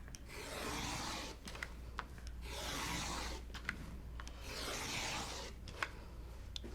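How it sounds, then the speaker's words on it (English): Rotary cutter slicing through layered fabric strips for a Christmas quilt, three long steady rasping strokes against a cutting mat, each followed by brief clicks and taps, close and moderately loud with no talk. "we're going to cut 5 strips that are 2 inches wide"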